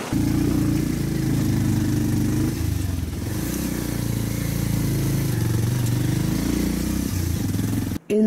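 A motorcycle engine runs steadily and close by on a rural mountain route used by miners, a continuous mid-pitched drone with slight swells in revs that cuts off briefly near the end.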